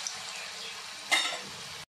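Rice flour murukku dough hitting hot oil: a steady, bright sizzle of frying swells suddenly into a louder crackling burst as the dough goes in, then settles back to a continuous fizz before cutting off.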